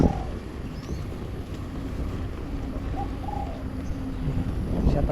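A noisy bird calls a few times over steady outdoor rumble and wind noise in Singapore, fairly faint against the background.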